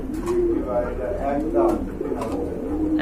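A pair of pigeons, one female and one male, coo softly and repeatedly at close range, low rolling calls under a voice talking nearby.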